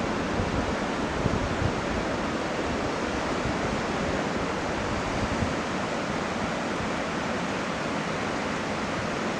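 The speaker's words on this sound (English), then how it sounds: "Cedar Creek is right here. It's flowing right down into the Pacific" Cedar Creek pours into the Pacific on Washington's Olympic north coast, a steady, dense rush of water and surf filling the whole stretch without letup, close and loud with no voices.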